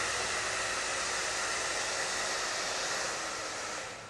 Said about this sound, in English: take the hair dryer and let's turn it on and see.